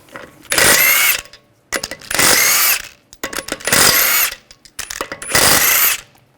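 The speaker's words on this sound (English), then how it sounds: "We're going to take the wheel off, use a 17mm socket," A power tool spins a 17mm socket to remove lug bolts from a 2009-2010 BMW 535 xDrive wheel, four separate loud close whirring bursts, each about a second, with short gaps of clicks and handling between them.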